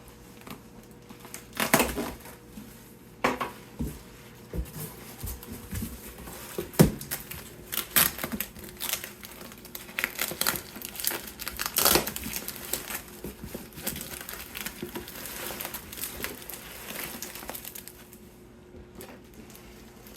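A blade cuts open the packaging around a Yaesu FT-1000MP Mark V transceiver, giving crinkly, crackling bursts and scraping tears that come in irregular bursts close to the microphone.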